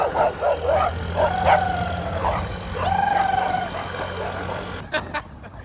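A dog barks and yips in quick bursts, close and loud, with whining tones between the barks, a mother dog with puppies.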